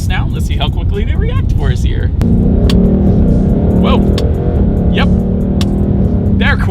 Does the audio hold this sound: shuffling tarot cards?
no